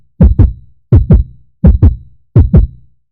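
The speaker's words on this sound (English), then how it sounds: "My heartbeat quickens." Heartbeat effect from a horror visual novel game: four loud, close double thumps in a steady lub-dub rhythm, each pair separated by brief silence.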